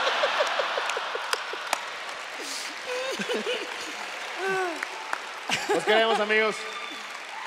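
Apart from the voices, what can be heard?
theatre audience applause at comedy show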